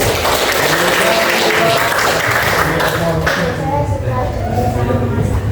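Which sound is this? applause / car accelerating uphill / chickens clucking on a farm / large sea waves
applause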